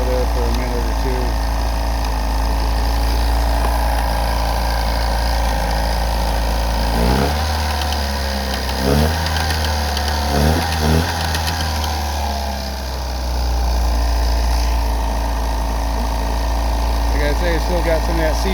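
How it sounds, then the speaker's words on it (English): A car engine idles steadily after a tune-up with Sea Foam cleaner added, a constant close mechanical hum with a few brief revs and rattles midway. "Let it idle there for a minute or two."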